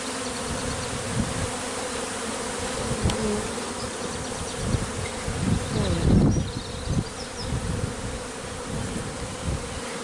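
A honeybee swarm crowds a hive entrance, producing a dense, continuous close buzzing of many bees with individual insects droning past, steady throughout with slight swells, no speech.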